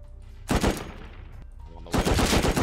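M2 machine gun firing in the survival game Rust, two loud rapid bursts of automatic fire separated by a short pause, close up and with no talk.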